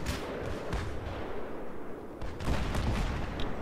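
Gunfire in the video game Battlefield 3, a dense, continuous barrage of booming shots and blasts that stays loud throughout and swells further in the second half, with no talk over it.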